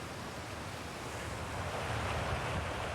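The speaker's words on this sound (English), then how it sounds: "Appears to be a big-ass waterfall." Big waterfall rushing in the Outer Wilds video game, a steady broadband roar of falling water that holds constant and swells slightly louder midway, with no voices over it.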